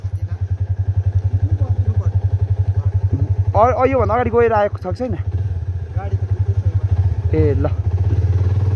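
A motorbike engine chugs steadily uphill on a rough, dangerous mountain road near Sandakpur on the Nepal–India border, with clattering thumps over bumps while people talk and call out over the close, loud motor.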